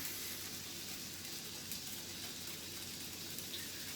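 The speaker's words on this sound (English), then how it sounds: "And we'll just stir everything up here" Steady soft sizzle of beef stroganoff with a splash of Worcestershire sauce being stirred in a pan, a continuous hiss at even level with no talking.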